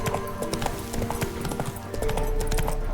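Roach the horse galloping in The Witcher 3, steady rapid clip-clop of hooves close up, continuous over a low game ambience.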